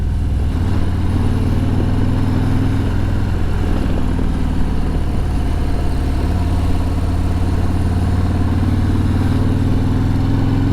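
Steady low rumble of a 2023 Harley-Davidson Road Glide Limited with the 114 V-twin engine while riding, a constant loud drone with wind noise and no talking.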